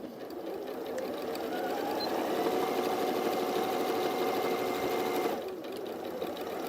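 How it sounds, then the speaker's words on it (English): A sewing machine stitches strips of fabric 2.5 inches wide in one steady, whirring run of rapid needle strokes that lasts about five seconds and then stops, leaving quiet. "I'm sewing 4 strips to make 8 strips"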